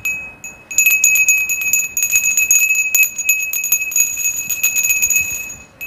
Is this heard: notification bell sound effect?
yes